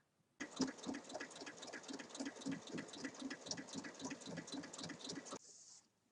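A sewing machine stitches outer fabric, a zipper and lining together in one steady run of rapid, even needle beats lasting about five seconds, close but soft, then stopping with a brief lighter whir.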